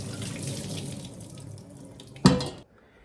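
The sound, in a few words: pouring raw milk curds and whey through colander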